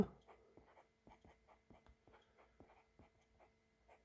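A Chinese character written by hand with pen on paper: short scratchy strokes and taps in an irregular rhythm, close and quiet, with no talking.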